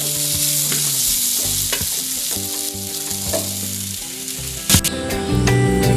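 Tomatoes and spices for tomato chutney sauté in a pan with a steady, loud sizzle. Stirring scrapes break through the sizzle, and a few sharper clatters come near the end. No one speaks.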